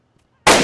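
A single sharp sniper rifle shot cracks out loud and close in DayZ on PS5, bursting suddenly after a short near-silence and decaying quickly.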